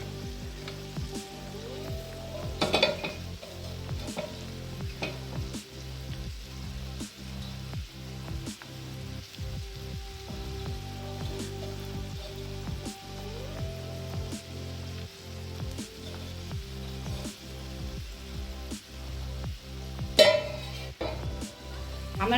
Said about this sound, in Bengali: এগুলোকে হালকা করে একটুখানি ভেজে নিলাম, সটে করে নিলাম